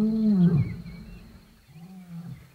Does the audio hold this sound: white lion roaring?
yes